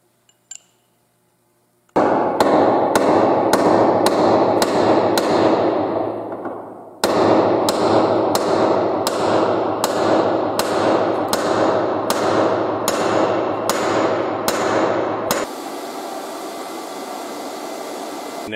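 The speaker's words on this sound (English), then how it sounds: "I'm going to pound it into the threaded end of the barrel and TIG weld it in place" Hammer blows driving a machined plug into the threaded end of a rifle barrel: two runs of sharp, evenly spaced metallic strikes, loud and close, roughly twice per second, over a steady background hum.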